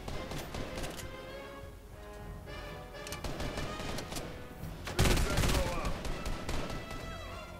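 Repeated gunshots in a Banana James Bond video game, single cracks and quick bursts with one louder volley, while players talk over the action.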